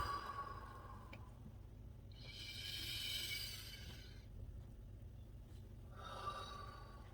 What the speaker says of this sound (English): Allow ourselves to take a few good, deep breaths.